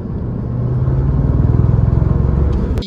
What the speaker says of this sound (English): now my car does a shuddering noise every time you do a pull